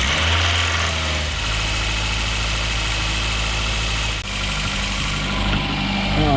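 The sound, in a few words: Nissan Altima 2.5L engine starting and idling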